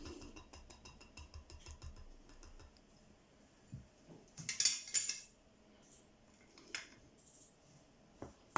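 A spoon clinks and scrapes in a bowl, working through thick cookie dough with irregular taps and a couple of brief, louder scrapes, close by and quiet.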